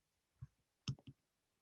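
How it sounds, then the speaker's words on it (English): Scissors snip thread in a few short, quiet clicks: one faint cut, a pause, then a quick pair of sharp snips close by, in an otherwise silent room. "Some scissors here."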